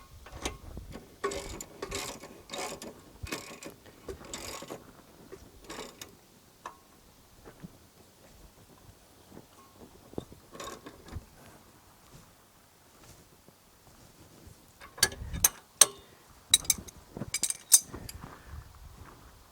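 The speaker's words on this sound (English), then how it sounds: "Get our little wimpy crescent wrench in here." A small crescent wrench tightens a rear suspension trailing-arm bolt on a 2013 Kia Sorento, giving sparse, quiet metallic clicks and taps in scattered bursts, busier near the end, with no talking.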